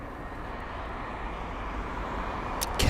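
Boeing 787-10 Dreamliner arriving from Dubai at Heathrow, its steady broadband engine roar holding at moderate, even loudness throughout, with no voices.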